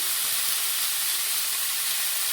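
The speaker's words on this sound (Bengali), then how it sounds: "ছোলা দিয়ে দিচ্ছি একটু দিয়ে মেরে দিচ্ছি ভালো করে ভেজে নেবো এটাকে" Boiled chickpeas frying in hot oil give a continuous soft sizzle and hiss, close but fairly quiet, with no talking.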